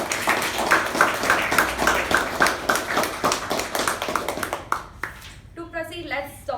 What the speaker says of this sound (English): I request everyone in the audience to please give a big round of applause to Toastmaster